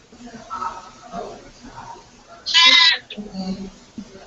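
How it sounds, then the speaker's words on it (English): A small pygmy goat on a farm gives one short, loud bleat over low outdoor background noise and soft talking. "Pygmy goat."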